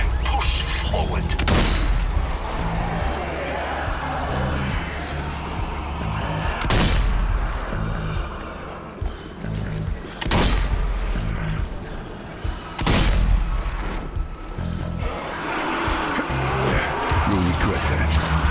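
Gunfire and explosions in the zombie shooter Zombie Army 4: Dead War, with several sharp heavy blasts over a constant loud bed of battle noise and music, no talk.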